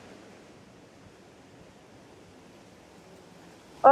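Water rushes steadily through a tunnel as a soft, even, broadband roar, faint and continuous, with no voices over it.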